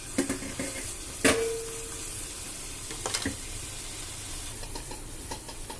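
Green chillies and small ginger pieces fry in oil in a pan for tamarind pulihora, a steady close sizzle broken by a sharp metallic clink and a few spoon scrapes, with no talking.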